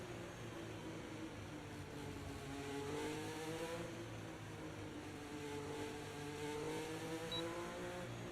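A Renault Formula 1 race car engine in the F1 25 video game drones steadily at high revs near 7,000 rpm, its pitch rising and falling in long smooth sweeps with a thin whine on top, loud and alone.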